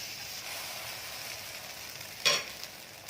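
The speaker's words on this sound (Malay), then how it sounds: "So kita teruskan proses menggoreng dia sampai habis" Steady frying sizzle of roti telur, an egg flatbread, in a pan, with a brief sharper crackle burst near the end; no voices.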